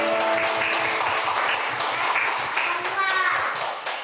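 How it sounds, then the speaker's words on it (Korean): Church congregation clapping together at the close of a Korean Sunday worship service, a dense steady patter of many hands over music and voices in the room. "박수로 영광 돌며 나갑시다"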